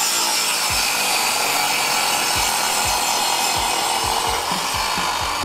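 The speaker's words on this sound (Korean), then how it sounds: "자, 톱질을 하겠습니다" A hand saw cuts through a small piece of wood, giving a steady rhythm of close, loud back-and-forth rasping strokes, roughly one or two per second, with no talk over it.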